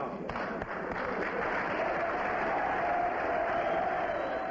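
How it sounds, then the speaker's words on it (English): A crowd in the South Bronx applauds steadily after a youth services worker calls for peace. The clapping is thick and continuous, with faint cheering and murmuring mixed in. "The applause that greets a call for peace by a youth services worker"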